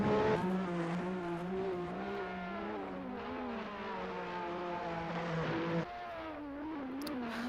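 A race car on a flying qualifying lap heard onboard, its engine droning loud and close with a rising, falling pitch through gear changes and a sharp shift near the end.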